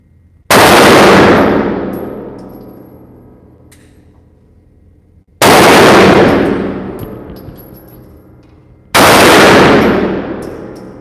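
Three loud, close pistol shots from a Sig Sauer 365 XL, fired slowly several seconds apart, each a sharp crack followed by a long ringing decay, with no talking.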